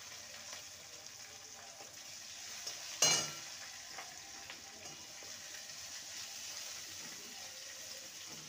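Ginger, garlic and chopped green chilli fry quietly in a pan, a soft steady sizzle with faint scraping from stirring and one sharp clink of a utensil partway through.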